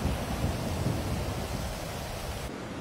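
Steady rain hiss with low rumbling thunder underneath, continuous and fairly loud, cutting off abruptly near the end, from the video game GTA 4.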